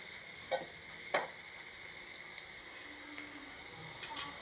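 A curry base for a tangy potato pulusu is stirred in a pan: quiet sizzling with a few distinct scraping clicks of a spoon against the pan.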